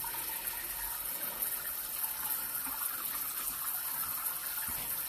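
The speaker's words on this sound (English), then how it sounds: "Draining really, really good." Water rushes steadily down a shared drain line in a house, a constant hissing gush that holds an even level throughout, close and fairly strong, with no talk.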